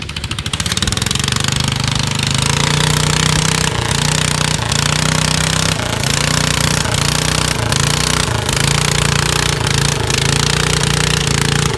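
Modified Cub lawn tractor engine roaring at a farm lawn tractor pull, a loud hammering, rapid-firing exhaust that starts up and holds steady close by for the whole stretch, with no talking over it.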